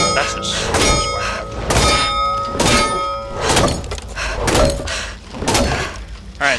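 Heavy bat strikes against enemies in the video game Back 4 Blood, a rapid series of loud, dull thunks and cracks following one another closely over busy game sound.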